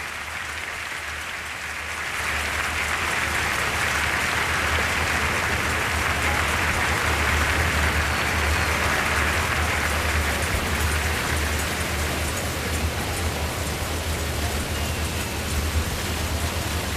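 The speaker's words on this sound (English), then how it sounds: "Rousing applause from everyone here at the Padang." Rousing applause from a large outdoor crowd at the Padang during the 2005 National Day Parade, a dense roaring wash of clapping that swells after a couple of seconds and holds steady, broad and distant like rain.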